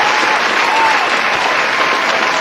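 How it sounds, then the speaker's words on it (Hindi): A crowd at a staged comedy show claps in steady, dense applause, loud and close, filling the whole moment without a break. "तालियां ठोको इनके लिए"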